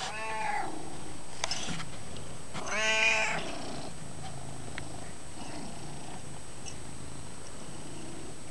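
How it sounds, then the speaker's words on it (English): A tabby cat purrs softly and steadily at close range, with a few brief meows rising over the low purr and no talking. "I gotta go to the other purring cat."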